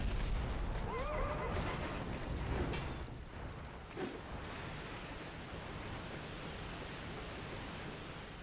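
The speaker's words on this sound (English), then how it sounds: "I can hear a horse already." A horse in the Dark Souls video game neighs with a brief whinny near the start. Soft rustling and ambient game noise follow in a quiet, distant-sounding scene.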